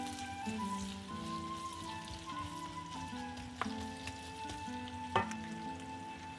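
Onion and garlic sauté in hot oil, giving a soft continuous sizzle with occasional sharper pops and crackles under a faint steady background hum.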